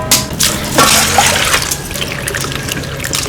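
Freshly picked wild scallion bulbs are washed of mud in a basin, with water sloshing and trickling steadily throughout, splashes louder near the start and softer swishing later.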